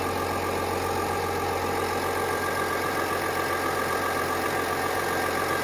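A 2021 GMC Sierra Elevation 1500 diesel engine idles steadily, a continuous low rumble with a faint knocking clatter, close up and without any talk.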